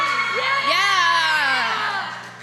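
A live stream audience screams on cue, one sustained loud burst of voices with high wavering tones rising and falling over about two seconds before easing off.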